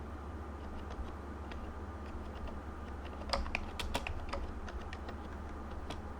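Computer keyboard typing during AutoCAD drafting, a steady run of light key clicks with a brief denser burst midway, close and moderately quiet over a low room hum.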